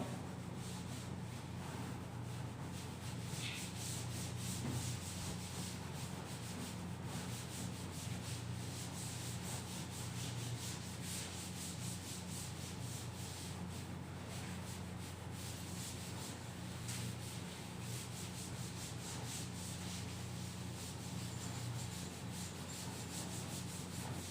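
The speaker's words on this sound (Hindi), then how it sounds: "तो ये पूरा मैं रब कर दे रहा हूं।" Steady, continuous rubbing as a maths teacher erases writing from a board, a dry scraping texture that holds at constant loudness throughout with no pauses.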